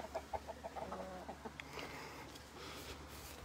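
Hens in a chicken yard, a quiet run of rhythmic clucks at the start that is followed by softer, muffled background rustle and faint sounds, low in level.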